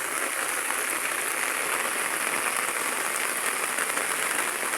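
Dense, even hiss of steady rain pouring over a village pond during the rainy season, a constant broadband wash with no distinct breaks or voices standing out.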